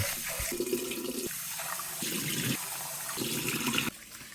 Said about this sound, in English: you must wash it until the water runs clear